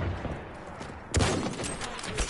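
Battlefield 1 gunfire crackles in a loud volley of shots, with a sharp burst near the middle and more scattered rounds continuing after it.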